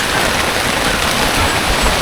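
Heavy rain pounds steadily on a tent at a campsite on a point in Lobo, Batangas, producing a dense, loud, unbroken hiss close by.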